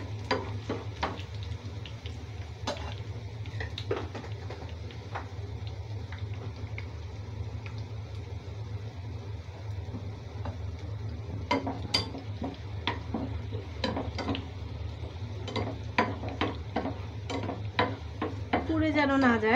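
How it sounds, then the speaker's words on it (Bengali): Cumin seeds fry in a pan on a lowered stove flame while making a sour mango dal, a soft steady sizzle beneath occasional sharp clinks of a spoon stirring against the pan, close and moderately loud. "চুলার জালটা কমিয়ে তারপর ভেজে নিতে হবে।"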